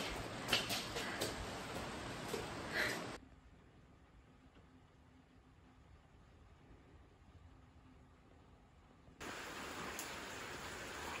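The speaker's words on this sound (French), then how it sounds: "il se met à pleuvoir beaucoup" Steady rain hisses loudly outdoors, eases into a much quieter patter for several seconds, then returns at full strength as a heavy downpour.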